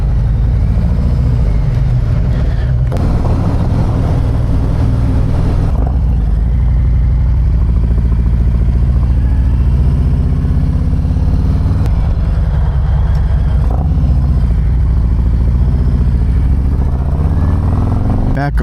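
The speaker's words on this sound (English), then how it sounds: "This cooler weather is making the bike run great." A motorcycle engine running steadily while riding in cool weather, a loud continuous drone with gear shifts and wind rush, and a rider talking over it.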